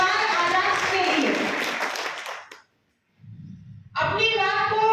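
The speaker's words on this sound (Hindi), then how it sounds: "जोरदार ताली मुरैना परिवार आजाद के लिए" Applause for the Morena family breaks out at a Savitribai Phule Jayanti speech event, with loud clapping from a crowd that cuts off, a brief quiet, then voices resume.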